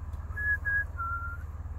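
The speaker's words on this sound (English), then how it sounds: "I always make that whistle" A person whistles to a crow outdoors: a clear, high whistled phrase of two short notes and one longer held note over a low steady hum.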